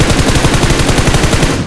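A rapid, continuous burst of automatic gunfire in PUBG Mobile, loud and dense, rattling steadily for under two seconds.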